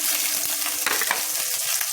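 Fried onions sizzling hard with ginger paste and chili powder for a rohu fish and taro curry, a dense, close hiss with quick stirring scrapes.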